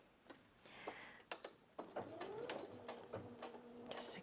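A Brother Innov-is F560 sewing machine runs a straight stitch in short, uneven bursts of mechanical whirring and clicking, close and fairly quiet, with a rising motor whine in the middle.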